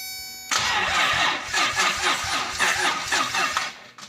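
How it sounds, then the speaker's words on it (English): Toyota 2J car engine cranking over on the starter, a loud, rhythmic chugging churn that kicks in abruptly and repeats steadily for several seconds, close and alone. "It cranks."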